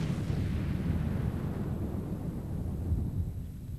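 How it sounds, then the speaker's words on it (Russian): A deep, sustained rumbling blast that rolls on steadily for several seconds, heavy in the low end and fading only slightly toward the end. "Миллиарды лет назад этот шар взорвался."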